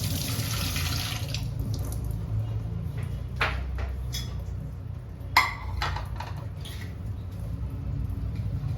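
Water runs steadily from a tap into a kitchen sink while something is washed under it, with a few brief clatters and knocks of handling partway through, heard close with no talking.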